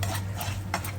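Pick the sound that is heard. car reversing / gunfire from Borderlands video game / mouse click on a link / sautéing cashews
sautéing cashews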